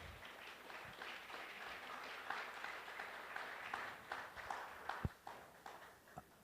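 Audience applauding Dr. Annette Magnusson at a talk on arbitration and peace: a quiet, sparse scatter of claps from a small crowd that thins out toward the end, with a few louder individual claps near the close.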